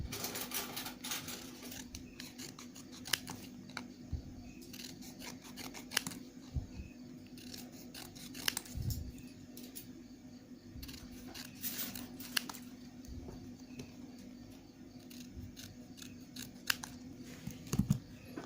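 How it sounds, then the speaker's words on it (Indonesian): Scissors snip repeatedly through paper, cutting it into small litmus-sized pieces for a homemade natural pH indicator, with a steady run of crisp close clicks and brief pauses over a faint background hum. "Kita gunting kertas sebagaimana ukuran kertas lakmus."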